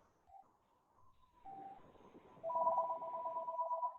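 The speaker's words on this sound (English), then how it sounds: "Ignore that ringing on the back of the line." A telephone rings faintly in the background, a steady electronic warble that starts quietly and grows louder partway through, repeating over a few seconds with no one talking.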